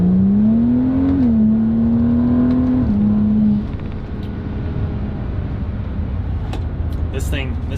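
A modded BMW 135i pulls hard on a test drive, its engine drone rising then stepping between gears before easing into steady road rumble, with a voice talking over it.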